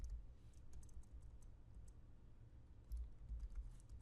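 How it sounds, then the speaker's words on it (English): Keys tapping on a computer keyboard while entering random text, steady quiet clicks in an irregular rhythm over a low background hum, with a few louder keystrokes near the end. "I'm just going to type a random text"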